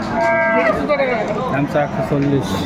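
Dairy cows and calves of improved breeds low and bellow at a busy cattle market near Dhaka, several long moos overlapping through steady crowd chatter and outdoor bustle.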